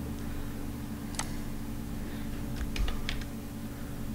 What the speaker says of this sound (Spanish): pulsamos las teclas que queremos